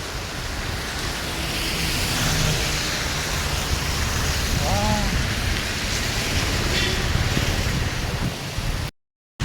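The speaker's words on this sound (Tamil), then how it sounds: "மக்களே. மழை கனமாக வர ஆரம்பிச்சிருச்சுங்க." Heavy drizzle pours steadily in hilly Kattappana, Kerala, a dense, even hiss of rain close by, with a faint chirp around the middle and a brief dropout near the end.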